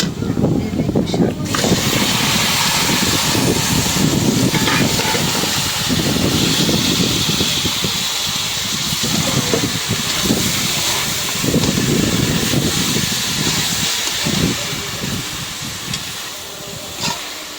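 Greens dropped into a hot pan set off a loud, dense, continuous hiss of sizzling and steam that stays strong throughout, easing slightly toward the end.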